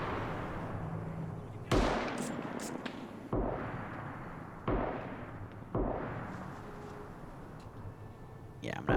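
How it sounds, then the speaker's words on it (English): Grenade explosions in a war video game, four or five loud booming blasts at irregular intervals, each trailing off into rumble, with a voice talking over them. "They're starting to pop grenades in here."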